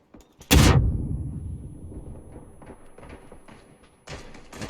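A grenade goes off in PUBG with a loud close boom followed by a long rumbling tail that slowly fades, and a sharper crack cuts in just before the end.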